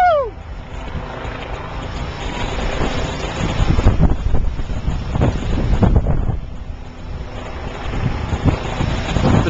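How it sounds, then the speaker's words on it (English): Atlantic Ocean surf and wind at night on a South Florida beach, with heavy wind buffeting the microphone and a continuous rough wash of waves, loud and close, with brief whoops at the start. "delusional Colt fan Chris Moline is diving into the Atlantic Ocean"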